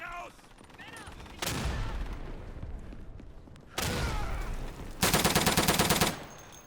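Gunfire in the World War II shooter Day of Infamy on a Dunkirk map: loud bursts of rapid automatic fire in separate volleys, with a heavier sustained burst near the end.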